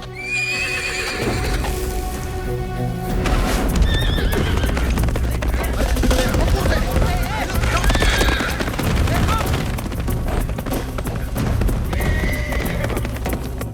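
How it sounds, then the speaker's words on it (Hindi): A horse gallops hard with rapid, loud hoofbeats and whinnies over a dramatic film score, driving steadily throughout. "ये घोड़े पे किधर भागता चला जा रहा है?"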